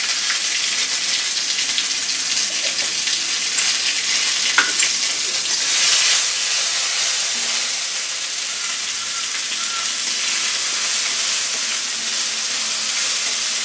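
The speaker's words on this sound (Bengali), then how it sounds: "এখন তেলের উপর মশলাটা আমি ভেজে নিচ্ছি কালো জিরে তেজপাতা দিয়ে" Spices fry in oil with nigella seeds and bay leaf for a Bengali rohu fish kalia. A loud, dense sizzle runs throughout, with faint stirring scrapes and no talk.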